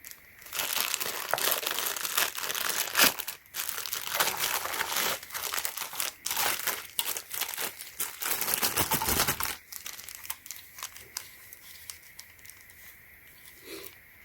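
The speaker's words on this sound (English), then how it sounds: "So this is a plastic protector. Now you need to take it out." Plastic protector casing of a 12–48V wireless remote controller being handled and pulled out, giving close, busy crinkling and crunching plastic sounds for about ten seconds, then quieter intermittent handling clicks.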